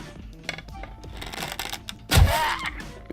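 Enemy pounding on an underground base in 7 Days to Die, with irregular muffled knocks and clatter and one heavy thudding blow near the end, up close, under faint background noise.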